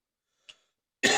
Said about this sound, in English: because I'm coughing on it.